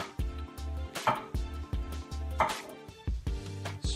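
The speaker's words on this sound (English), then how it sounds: "You gotta have a sharp knife for this garlic." A sharp knife slicing through garlic on a cutting board, a quick run of crisp repeated chops in an uneven rhythm, close and fairly quiet with no voices.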